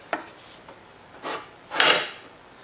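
Metal scraping and clinking while a tapered bolt is worked on the front spindle knuckle of a Cub Cadet 1650 garden tractor, three short separate rasps and taps, close and fairly quiet.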